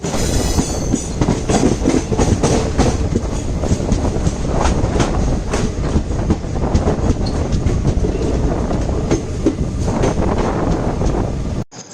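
The Ernakulam Pune express passenger train runs on the rails, a loud continuous rumble with repeated clickety-clack of wheels over joints and wind buffeting the microphone, heard close from onboard before cutting off abruptly.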